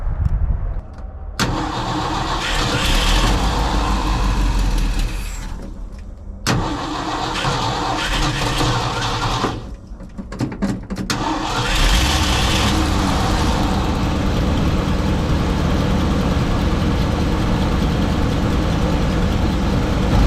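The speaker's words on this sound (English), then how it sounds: "so we got the engine warming up now" A 1967 Ford F100 pickup truck engine cranks and starts after a few tries, then settles into a loud, steady warm-up idle that runs on without a break.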